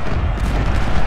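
Cannon artillery fire in the Civil War video game Ultimate General, a loud, dense roar of overlapping booms and rumbling blasts filling the whole moment with no voice over it.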